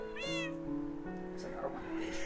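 Cats in a video game meow several times, clear and close, over steady tonal game music.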